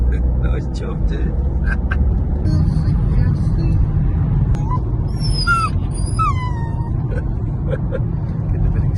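An excited dog whimpers and yips in high, wavering cries over the steady low rumble of a moving car, with a person talking nearby.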